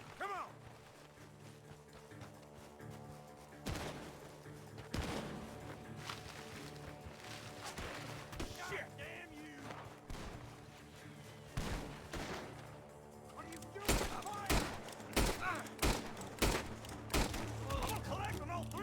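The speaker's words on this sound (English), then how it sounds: "Gunshots are coming." Gunfire in a video game, scattered shots at first, then a dense run of sharp, loud bursts late on, mixed with mechanical clicks and creaks, while players talk over it.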